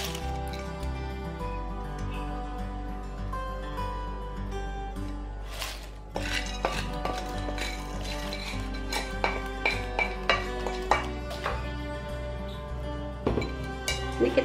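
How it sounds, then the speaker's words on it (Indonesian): A spatula stirs crispy fried potatoes and anchovies in a pan, scraping and clinking steadily up close, with no one talking. "Ini kita aduk hingga merata."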